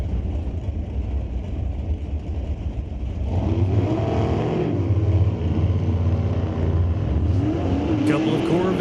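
Two 1957 Corvette Roadsters launch in a drag race, engine roar building into a loud, rising rev that carries to the end, with a commentator talking over it.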